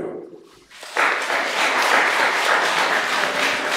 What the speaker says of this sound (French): J'invite les applaudir.